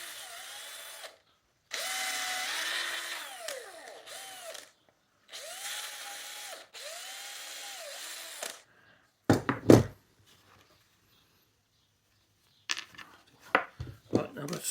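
A power drill runs through wood with a 2.5 bit during a wood turning job on a block hand plane knob, in several sustained whirring bursts with short pauses between, followed by a few sharp knocks and handling clatter near the end.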